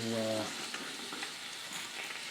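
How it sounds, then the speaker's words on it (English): A pork chop fries in a pan on a camp stove outdoors, giving a steady close sizzle and crackle that carries on after a brief low tone at the start. "Already starting to sizzle out now."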